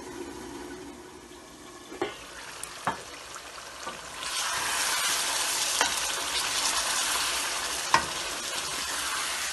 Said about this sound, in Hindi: इसको हम भूनेंगे